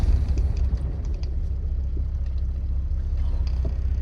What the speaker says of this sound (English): 1000 RPM idle with the lights on